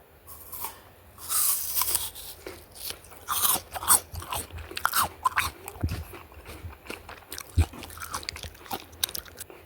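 Raw green apple bitten and crunched close up, a run of crisp crunches and chewing bursts spread irregularly through the clip, with no talking.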